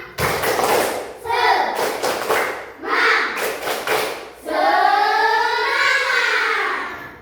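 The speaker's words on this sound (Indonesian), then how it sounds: "Oke, tepuk semangat." A school class performs a rhythmic spirit clap, tepuk semangat, in bursts of quick, sharp hand claps alternating with children chanting together, ending in a long rising shout, close and loud in a classroom.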